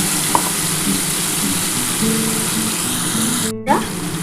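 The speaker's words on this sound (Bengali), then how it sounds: "এবার এই তেলের মধ্যে আমি সর্ষে পোস্তটা রেখেছিলাম আর কাঁচা লঙ্কা এটা দিয়ে দিলাম" Mustard-poppy paste and green chilli sizzling in hot oil for pomfret curry, a steady close frying hiss throughout with faint clatter and a short splashy burst near the end.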